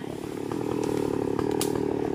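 Chainsaw cutting into a durian tree, a steady close buzzing motor whine that holds loud and even for about two seconds with a short clattering burst near the end, no talk.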